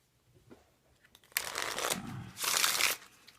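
An Ombre Oscure playing card deck with an embossed linen finish is handled up close: a couple of soft taps, then two brisk bursts of riffling cards, quiet and crisp.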